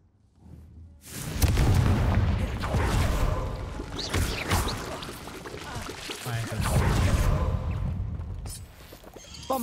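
Fiery Confringo spell blasts from Hogwarts Legacy, heavy booming bursts rolling through the scene one after another, loud and close, with a voice talking over the noise.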